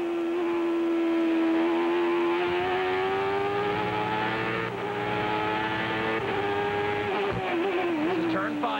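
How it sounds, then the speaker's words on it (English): A 1995 CART race car at Laguna Seca holds a loud, sustained engine drone near the microphone, its pitch rising and dipping slightly with throttle changes over the whole stretch. "Listen to the throttle."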